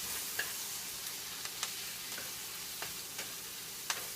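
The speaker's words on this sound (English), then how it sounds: "Then you just take your eggs, mix it on up" Eggs for a weight-loss breakfast whisked and cooking in a pan, a steady soft sizzle with light clicks of a utensil tapping at irregular intervals, quiet and close.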